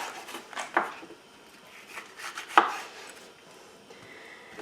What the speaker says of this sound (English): What I'm going to do is slice them down the sides, getting big slices there.